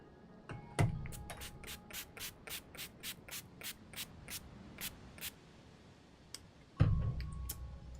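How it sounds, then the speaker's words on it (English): A person sprays themselves with a spray bottle, a rapid run of about fifteen short, crisp hissing bursts, with a louder knock at the start and another near the end, close and quiet. "In fact, I should probably spray myself."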